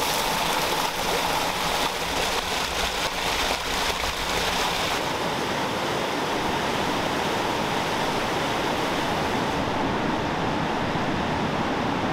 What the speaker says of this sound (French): Et voilà, on a trouvé une cascade.